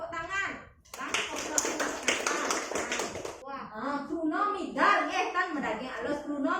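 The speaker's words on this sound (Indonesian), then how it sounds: "Tepuk tangan." Classroom clapping during a Balinese-language teaching session, a burst of quick claps from a group of pupils lasting a few seconds, with children's and a teacher's voices talking before and after it.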